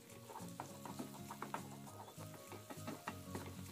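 Oily, spicy Korean-flavoured Lemonilo instant noodles are stirred with seasoning, giving soft, rhythmic wet sloshing and light scraping over a faint steady background, quiet and close.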